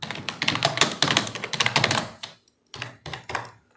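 Rapid keystrokes on a computer keyboard while entering reference details in Microsoft Word 2021, a dense burst of clicks for about two seconds, then a brief pause and two shorter flurries of typing, close and fairly loud.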